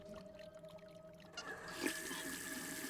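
A sink faucet in The Suicide of Rachel Foster starts running partway through, a soft, quiet trickle of water that grows into a steadier flow.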